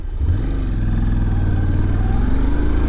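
A Honda NC700X or CB500X twin-cylinder motorcycle engine idles and revs nearby, a loud, steady, buzzy drone that swells briefly near the start and then holds even.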